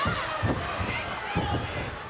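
A wrestling arena crowd roars and chants the challenger's name in a loud, continuous wall of noise, with a few dull thuds from the ring cutting through.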